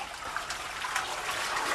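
A toilet flushes and service water runs out, a steady bright rushing and trickling close by, with no talking.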